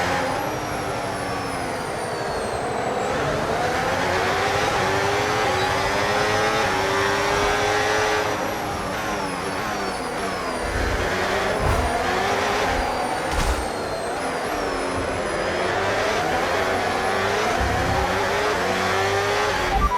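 A Formula 1 race car engine in a video game screams continuously at high revs, loud and close, rising and falling through gear shifts with no talking.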